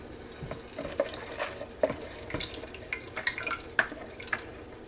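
Chicken and rice casserole mixture poured into a greased Pyrex dish, giving a wet, splattering slosh with irregular soft plops and drips, close and moderately loud.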